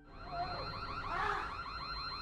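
An electronic alarm from the film Don't Breathe blares continuously, a loud warbling, wavering tone that holds steady throughout with no voices.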